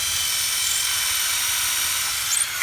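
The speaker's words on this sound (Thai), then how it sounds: "เอาเดี๋ยวเจาะ ไม้ยางให้ดู" A 24V cordless drill boring into rubberwood gives a loud, continuous high-pitched whine that holds steady, then shifts briefly at the very end as the bit slows or breaks through.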